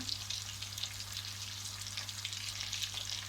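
Mint tipped into hot oil in a pan for a green lentil and bulgur köfte soup with ayran gives a steady, close, even sizzle of frying that holds without pause, with no one talking.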